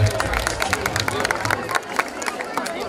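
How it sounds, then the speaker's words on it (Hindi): A crowd at a Mata ki Chowki devotional gathering claps in a rapid burst of close, dense applause, with voices talking over it. "जोरदार तालियों से इस अवसर का आप सब मान बढ़ाए"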